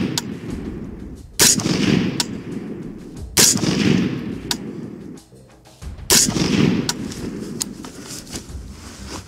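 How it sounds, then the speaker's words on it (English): Five sharp, loud rifle shots from an AR-15 chambered in 7.62x39 crack outdoors at uneven intervals, each followed by a short echoing tail. "that was 5 rounds with the AR"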